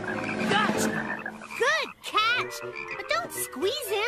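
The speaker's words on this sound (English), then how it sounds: "Listen to that frog croak." Cartoon frog croaks in a bright, bouncy series of rising and falling calls from a children's animated show, loud and close, overlapping with a child's excited speech.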